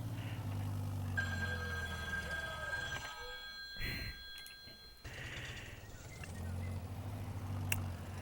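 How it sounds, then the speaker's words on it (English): A telephone rings in steady repeated bursts of bright tones, close and clear, in a workshop setting after a harvest, with a pause in the middle and low machine-like rumble underneath. "the phone always seems to ring right as soon as I hit the record button"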